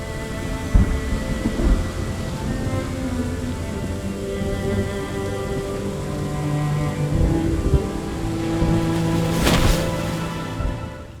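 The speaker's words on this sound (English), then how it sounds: "This is an ocean storm" Thunder and heavy rain of an ocean storm in the video game Rime, a steady loud downpour with rumbling, and a sharp close thunderclap breaking through near the end.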